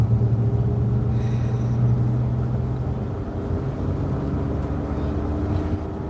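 A car with a transmission fault that won't shift properly, its engine roaring in a loud, steady low rumble from inside the cabin, droning on without a break.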